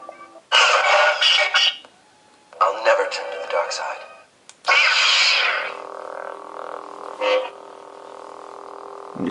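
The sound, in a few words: lightsaber sound effects from Graflex 6 sound font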